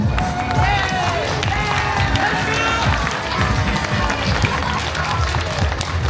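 A crowd claps steadily throughout, a dense wash of applause under loud voices speaking over it.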